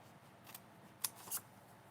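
Scissors cutting folded paper, three quiet crisp snips spaced apart in a calm room, the middle one sharpest.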